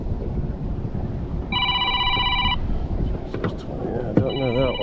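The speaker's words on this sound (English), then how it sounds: "Oh, someone's calling. Let's see who's ringing here." A phone rings on a fishing boat on the Allegheny River, two bursts of an electronic ringtone, one long and one starting near the end, over wind and engine rumble, with someone talking briefly between them.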